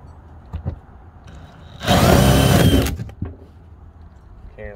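A power drill with a 1 1/4 inch bit whines loudly for about a second, boring a hole, with quieter handling knocks and clatter before and after.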